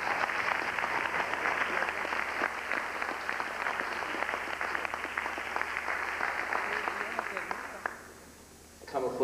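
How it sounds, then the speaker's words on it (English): An audience gives sustained applause for Brother Jabari, with dense clapping at a steady level that tapers off near the end before a new sound begins. "So let's give a round of applause for Brother Jabari."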